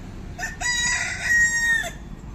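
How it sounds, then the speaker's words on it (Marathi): A rooster on a small goat-keeping farm crows once, a single clear cock-a-doodle-doo, close by and loud over quiet outdoor background. "तुम्हाला मी इथे माझे कोंबडे पण दाखवते"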